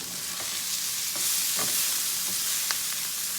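Meat sizzles and crackles steadily in a hot pan for stir-fried green beans, a close, continuous frying hiss with small pops scattered throughout and no talking.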